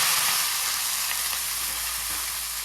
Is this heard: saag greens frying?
yes